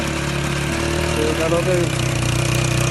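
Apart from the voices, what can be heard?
motorbike engine running a sugarcane crusher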